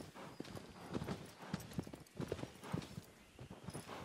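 Steady horse hooves clip-clop at a walking pace in the video game Shadow of the Colossus, a bit distant and fairly quiet, over a faint background hum.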